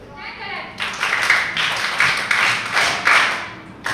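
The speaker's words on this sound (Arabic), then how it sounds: "وهو من يجبر الرفقاء في صفه أن يصفقوا له اقتدارا" Classmates in a school classroom clap for a student, a burst of overlapping handclaps rising in loud pulses across the whole stretch.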